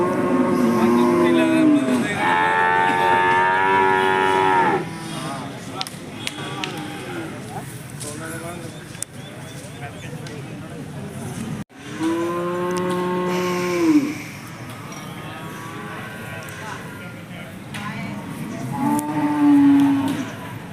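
Cattle low repeatedly at the Chattipparamba cattle market, long loud moos rising over a busy background of crowd noise and voices, with several calls overlapping near and far.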